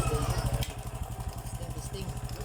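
An overhauled Honda XRM125 motorcycle engine runs on a test, a close, rapid, evenly pulsing idle putter that holds steady throughout.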